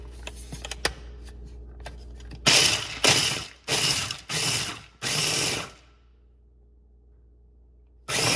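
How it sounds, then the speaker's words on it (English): Food processor chopping pecans in a kitchen, heard as several loud bursts of whirring and rattling blades, each lasting about half a second to a second and separated by short pauses, with quiet gaps between pulses. "I'm gonna go ahead and put these in a food processor"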